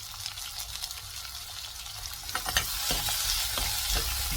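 Onions sauté in a pan with a pinch of rock salt for mushroom gravy, giving a continuous sizzle with scraping stirs joining partway through.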